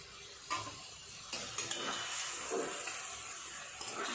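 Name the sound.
Bombay duck (lote fish) frying and being stirred in a pan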